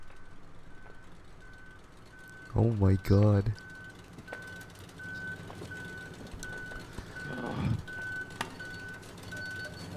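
In the video game Human Fall Flat, a truck's reversing alarm beeps at a steady, even pace through the whole stretch, while players shout and exclaim over it.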